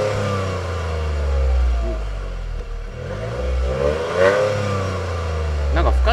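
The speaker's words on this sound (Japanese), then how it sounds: "でもやっぱ3気筒の音するよね。" A Toyota GR Yaris three-cylinder engine with a TOM'S single-exit exhaust idles with a low throb, then revs up against the rev limiter and falls back twice, loud and close, with some rattling near the end.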